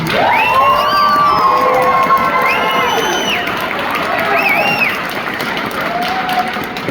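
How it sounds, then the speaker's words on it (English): A school audience claps and cheers for a Level 1 sixth-grade orchestra, with loud sustained applause, whoops and children's high shouts layered throughout. "Let's give them a round of applause"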